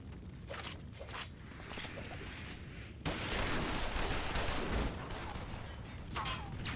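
Soldiers fire guns in a Final Fantasy XIV battle, a dense, continuous clatter of shots and impacts that grows louder partway through, with voices shouting over the din.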